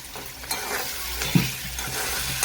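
Chopped garlic frying in oil in a pan while sandwich filling is cooked, giving a steady close sizzle with a couple of sharp stirring knocks against the pan.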